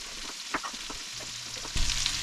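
Fries sizzle in butter in a pan with a steady crackling hiss, broken by a few sharp pops and stirring clatter, then a louder surge of sizzling near the end.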